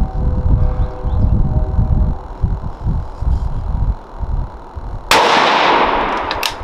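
A single loud rifle shot from a Bergara B14 at a precision rifle match practice cracks out near the end, following a stretch of low rumbling handling and wind noise.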